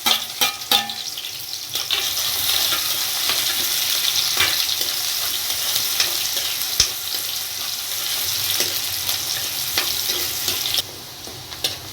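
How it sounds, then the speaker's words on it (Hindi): Finely chopped onions fry in hot oil with a steady broadband sizzle, broken by occasional sharp clicks and scrapes of stirring, close and loud throughout with no voices. "इस तेल के अंदर प्याज को डालेंगे, प्याज को फ्राई करेंगे।"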